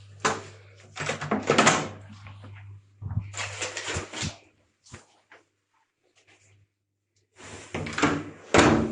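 A student accommodation bedroom door in Glasgow opening, closing and being locked, with a run of close knocks, latch clicks and thuds in bursts separated by near silence, with a low hum under the first part.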